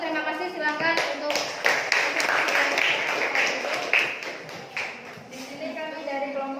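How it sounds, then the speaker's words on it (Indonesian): An audience of students applauds group 1 in a classroom presentation, a sustained burst of clapping from many hands, fairly close, with voices mixed in as it tapers off. "Silakan tepuk tangan lagi untuk kelompok 1"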